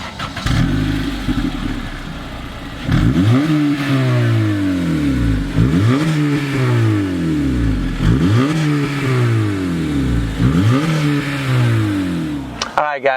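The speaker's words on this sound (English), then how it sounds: "Speaking of this engine, let's hear what it sounds like." A 2015 Honda Civic Si with its VTEC engine is revved repeatedly, each blip climbing sharply in pitch and falling back, about five rising-and-falling sweeps in a loud, close recording with no speech.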